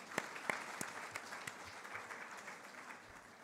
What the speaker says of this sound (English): So, claps for him,